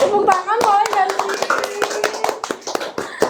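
An audience clapping at an event, a burst of scattered hand claps of varied rhythm mixed with voices and a child's sung or spoken sounds throughout.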